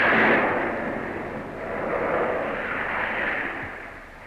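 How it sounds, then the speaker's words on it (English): Rockets launched by linesmen to carry high-voltage power lines across gullies in broken country give a sustained broadband whooshing roar, loudest at the start and steady for several seconds with no voices. "Across gullies in broken country, linesmen used rockets to carry the lines."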